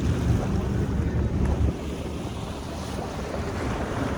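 A boat at sea escorting the start of a sailing race, with loud wind buffeting the microphone and a steady wash of waves and engine rumble throughout.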